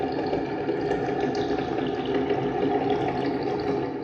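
Slowed-down recording of a Keurig coffee machine pumping water: a steady, dense, low churning drone with a gurgling texture, continuous and fairly loud throughout.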